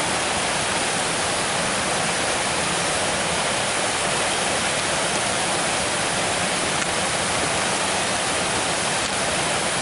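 Murray Reynolds Falls, a 16-foot waterfall in Ricketts Glen State Park, roars as a steady, dense rush of falling water, close and continuous with no voices.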